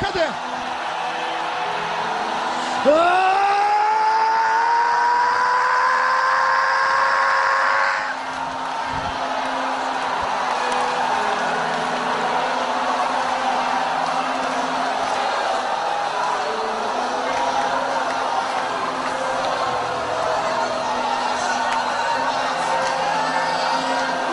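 A Pentecostal congregation in church breaks into a long, loud roar of shouting and cheering that swells and carries on steadily, with a voice rising sharply near the start.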